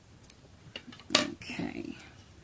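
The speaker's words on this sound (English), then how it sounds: "I'm just going to cut this little end off" Scissors snip off a loose yarn end with a single sharp close cut, followed by a short rustle of the yarn.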